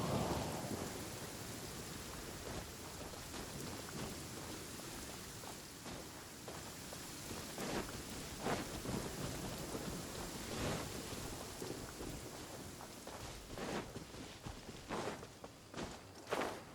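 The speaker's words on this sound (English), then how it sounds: "Taking a stroll in the middle of a downpour certainly rouses the spirit." Heavy rain pours steadily in a video game downpour, with rumbling thunder and a dense, constant hiss throughout, while footsteps crunch along in a regular rhythm underneath.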